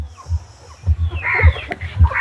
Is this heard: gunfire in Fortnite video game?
no